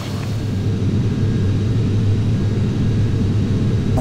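Airliner in the Flight Simulator X game powering up for takeoff, a loud, steady low jet-engine roar and rumble that holds throughout with no speech.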